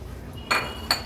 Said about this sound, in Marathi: आता आपण ह्याच्यामध्ये हे चिकनचे पीसेस ॲड करूया.